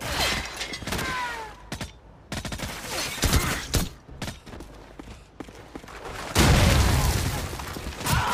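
Gunfire in the video game Call of Duty 4: Modern Warfare, with dense bursts of rapid shots and sharp cracks, some booming impacts, and a heavy rolling blast near the end.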